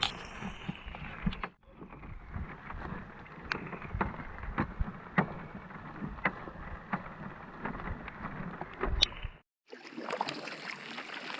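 Steady rain patters down on a canoe trip in Algonquin, with Hornbeck boats on the water, a continuous close hiss of drops with scattered sharper taps, broken by two brief dropouts and a drier windy stretch at the end.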